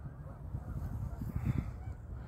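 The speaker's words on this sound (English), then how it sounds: "Bunch of birds flocking somewhere." A flock of geese or similar birds honks steadily in a low, continuous chorus at Hoover Park near a lake and soccer field, moderately loud and close.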